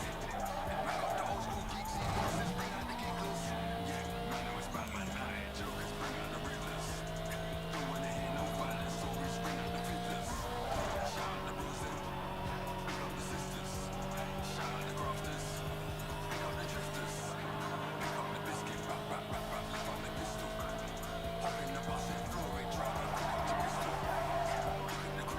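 A car drifts in the Need for Speed video game, its engine a steady droning tone with tire squeal and skidding layered on top, running loud and continuous throughout.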